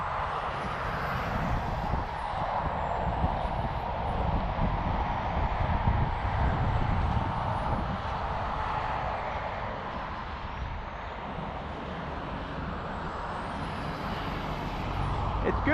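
A 1/10 scale 2WD touring RC car laps an asphalt track, its motor giving a steady, continuous high whine that holds level throughout, with a voice talking faintly beneath it.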